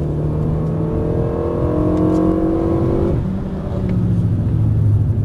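A race car on the Dreux circuit revs up loudly out of a corner and climbs through its range, dips briefly as it shifts into third gear, then pulls hard again, close and continuous.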